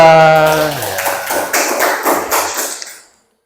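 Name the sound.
audience clapping for a presenting group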